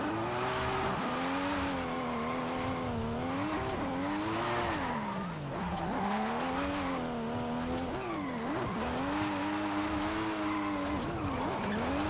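A Toyota Supra FD drifts hard down a mountain road in Forza Horizon 5, its engine wailing in long rising and falling sweeps while tires squeal continuously, loud and close, with no talking.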